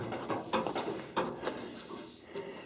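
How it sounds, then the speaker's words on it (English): The door of a 1972 K25 truck is opened, producing faint metallic clicks and ratcheting latch sounds over a low, steady background hiss. "why don't we open the good old door here."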